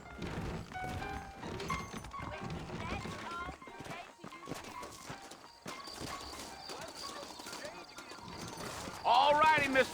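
Horse hooves clip-clop in the Western game Red Dead Redemption, a steady rhythmic patter under continuous talk and game music.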